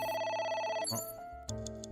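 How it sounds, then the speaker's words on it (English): A telephone rings inside the game AI: The Somnium Files, with bright repeated electronic ring tones that cut off and give way to a shifting musical tone, loud and alone with no talk. "A phone."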